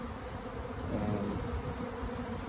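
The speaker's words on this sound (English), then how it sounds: "I didn't work too hard to prevent the swarming, so I'm not surprised by this." Swarming honeybees buzzing, a dense, steady hum of many insects that holds at an even level through the short stretch, with no talk.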